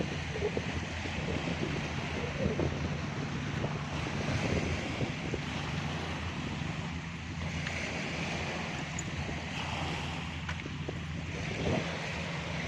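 Waves and wind at Tanjung Uma beach in Batam at high tide, a continuous surf wash and gusting wind noise on the microphone, steady and moderately loud with no talking.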